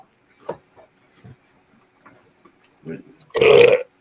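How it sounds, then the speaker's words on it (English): A single loud, close burp erupts at the end, after scattered faint sounds and brief quiet speech. "That was honey burp."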